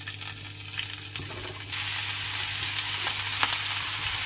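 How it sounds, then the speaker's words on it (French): Garlic, carrots, onions and mushrooms frying together in olive oil, a steady close sizzle with crackling pops and a few stirring scrapes, growing a bit louder partway through. "je fais revenir l'ail, carottes, oignons et champignons ensemble"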